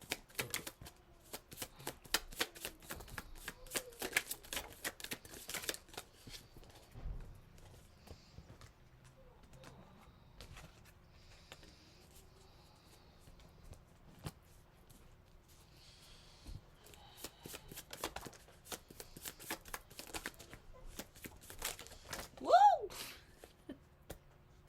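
A deck of description cards is shuffled in a quick flurry of crisp riffling at the start, then quieter handling and scattered card taps follow, with a person speaking in between.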